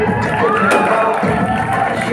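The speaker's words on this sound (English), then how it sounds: "Clap for them, guys." Audience at a ramp walk show cheering and shouting with steady crowd noise, loud and continuous throughout, with scattered voices rising above the din.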